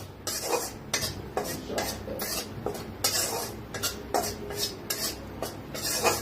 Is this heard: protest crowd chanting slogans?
no